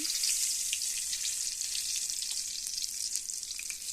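Whole chillies and whole garam masala tempering in hot oil in a kadai give a bright, steady, close-up sizzle with faint crackles throughout and no voices.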